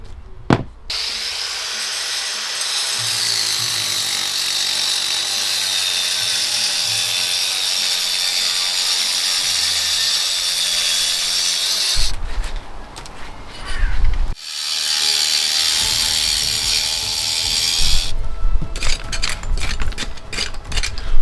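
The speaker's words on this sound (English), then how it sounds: "I can start work on the grinding out up here" Power grinder cutting hard, fractured mortar out of Indian sandstone patio joints, a loud continuous abrasive whine that runs steadily for about twelve seconds, drops out briefly, then resumes in rougher bursts.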